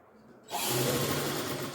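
A sewing machine stitches cloth for a five-year-old girl's frock. Near-silence gives way to a steady, loud, continuous whirring hum that runs unbroken to the end.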